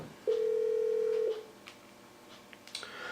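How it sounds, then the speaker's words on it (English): A single steady tone held for about a second on a Yealink 27G desk phone while an extension is dialed, followed by faint small clicks and beeps. "dial the extension of the person you want to transfer to"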